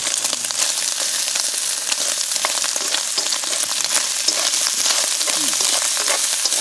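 Pork fat cracklings fry in a pan with a loud, steady sizzle and dense crackle that runs unbroken throughout, close by and alone with no voices.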